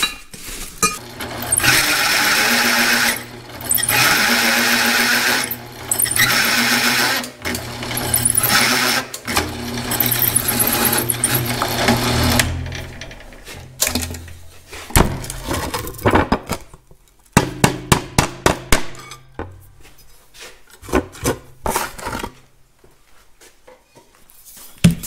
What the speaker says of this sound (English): Let's start drilling